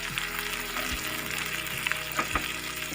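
Tomatoes added to half-cooked tinda sizzle steadily in a hot pan, with a few soft clinks and scrapes of stirring over a continuous close frying hiss.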